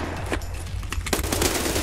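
Rapid bursts of gunfire in the video game Escape From Tarkov crackle in quick succession, a sharp volley near the end, with game-like background ambience.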